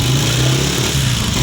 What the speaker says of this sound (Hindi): अब यहाँ पे आप तैयार करने से पहले बाइक का साउंड सुने ज़रा